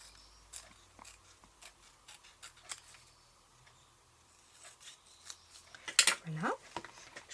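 Scissors cut through card paper while a simple men's greeting card is made: a string of small, crisp snips and ticks spread through a quiet room, ending in a louder, closer cluster of cuts.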